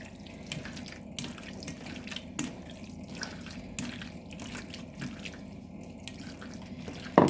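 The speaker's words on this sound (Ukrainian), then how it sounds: "хочу все-таки у фарш додати трохи води" Water is poured and trickles into minced chicken meat for boiled chicken sausages, with soft splashing and dripping up close over a low room hum and no speech.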